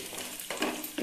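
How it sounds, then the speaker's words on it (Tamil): Dried red chillies frying in hot oil for puliyodharai, a steady close sizzle with a couple of sharper crackling bursts, brief and without voices. "இப்போ இந்த காஞ்ச மிளகாய் போடும்."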